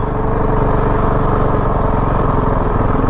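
A Honda CRF450L motorcycle engine runs steadily and loudly up close, a continuous throaty drone with slight throttle variation.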